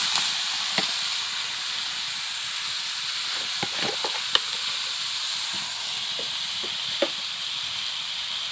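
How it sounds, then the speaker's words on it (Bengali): Bottle gourd goes into a pan of frying onions, setting off a steady, close hiss of sizzling with a few faint clicks and stirring taps over the top. "এই যে এখন লাউগুলো দিয়ে দিব।"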